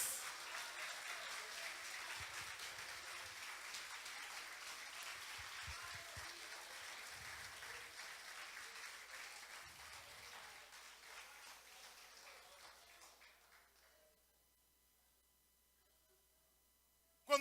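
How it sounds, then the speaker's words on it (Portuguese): A church congregation applauds in a sustained wash of clapping that holds steady, then slowly fades out to near silence, with a faint murmur of voices underneath. "aplauda Jesus."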